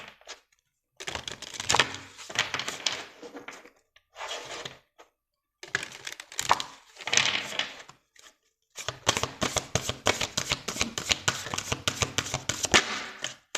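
A tarot deck is shuffled for a reading: repeated bursts of riffling, flapping cards, close and crisp, separated by short silent pauses, with a longer steady run of shuffling at the end.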